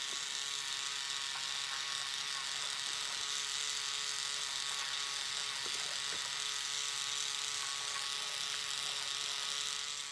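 A small DC motor in a homemade paper money box whirs steadily with a high, thin electric whine, close and constant, with faint clicks partway through and no talking.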